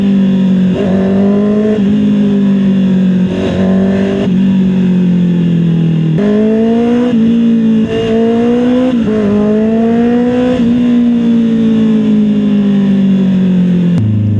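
A big bike motorcycle engine drones steadily while riding, loud and close, its pitch rising and falling through repeated throttle swells and gear changes, with no talk over it.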